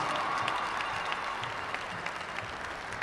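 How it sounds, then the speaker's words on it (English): Applause from a crowd honoring two ice hockey teams at a Massachusetts boys' hockey championship, a dense steady wash of many hands clapping that holds even throughout with no voices on top. "How about a great round of applause for two wonderful ice hockey teams"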